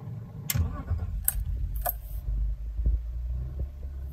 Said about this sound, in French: La preuve en est qu'elle démarre au quart de tour.